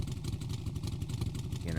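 An idling engine on a custom vehicle build, a steady deep rumble with a faint rising turbo whine near the end, heard up close while a voice talks over it.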